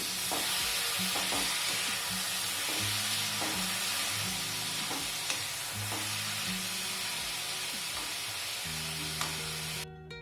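Tomatoes stirred into a pan of crackling sesame seeds, for a ridge gourd dosa, give a steady loud sizzle with repeated scraping stir strokes and sharp pops throughout, close by, with no talk.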